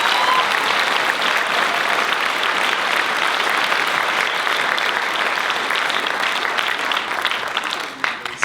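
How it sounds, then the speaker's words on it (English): Dense, continuous applause from a film awards show audience honoring a cast and crew on stage, loud and even for several seconds before tapering off at the end. "why don't we have another round of applause for Red Lark?"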